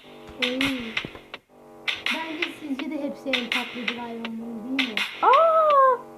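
A cat meows near the end, a short rising cry following excited children's talk and laughter about Minecraft.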